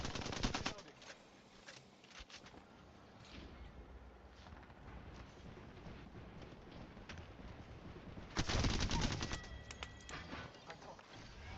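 Gunfire in a video game crackles in rapid bursts, with a loud volley at the start and another near the end over a continuous noisy battle backdrop.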